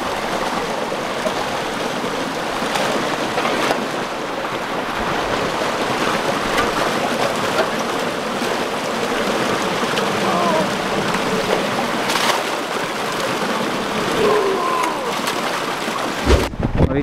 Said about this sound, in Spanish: Por acá está bajando el agua.